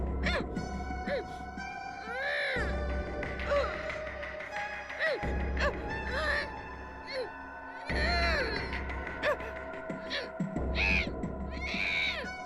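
Crying played back from a tape recorder, rising and falling wails repeating in cycles over a constant low hum, fairly loud and close, with brief pauses between loops.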